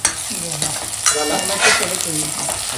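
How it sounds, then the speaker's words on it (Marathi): Onions fry and get stirred in a pan for crab masala, a steady close sizzle broken by scraping strokes of a spoon, with no talking. "कांदा आहे तो ब्राउनिश पर्यंत ठेवलेला आहे ना"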